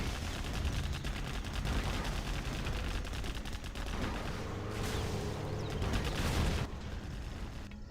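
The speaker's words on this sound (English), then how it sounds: "that is a really nice carpet bomb there from Tumstep" A carpet bomb airstrike in a strategy video game brings a steady, continuous barrage of rapid explosions and crackling bursts, fairly faint overall, with a slight swell near the end.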